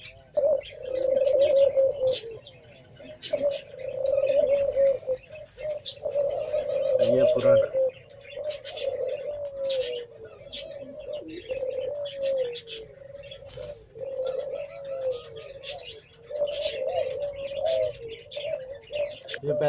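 Teddy pigeons, a high-flying breed kept in Pakistan, coo in soft repeated low phrases close by, with scattered chirps over a steady bed of background noise.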